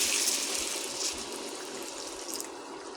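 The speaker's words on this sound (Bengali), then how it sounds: "এবারে গরম জল দিয়ে দিব।" Hot water poured into a pot of small round potato curry (aloo dum), a continuous close gushing splash that is loud at first and then settles into a steadier pour.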